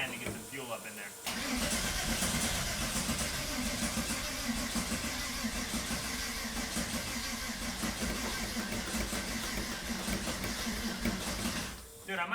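A neglected MK1 Volkswagen VR6 engine with a suspected fuel problem cranks briefly, then catches and settles into a steady, loud running note that holds for about ten seconds before cutting off.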